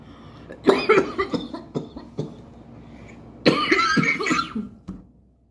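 Two separate bursts of harsh, close coughing, the second a longer hacking fit, with a quiet pause between them and no talking.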